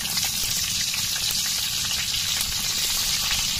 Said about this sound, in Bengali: এই যে তেলের সাথে কাঁচামরিচ দিয়ে দিছি